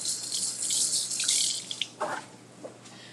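Water runs steadily from a kitchen tap as hands are washed, a loud close rushing stream that breaks into a few splashes and drips near the end, with no voices.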